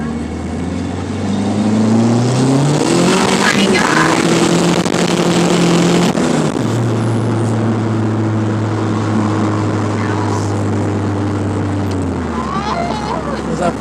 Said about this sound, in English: Taking Mr. Talon for a ride in the probe